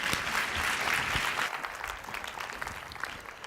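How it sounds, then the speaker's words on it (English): A keynote audience breaks into applause, dense and loud at first, then thinning into scattered claps toward the end, with faint voices mixed into the crowd noise. "Thank you very much, round of applause."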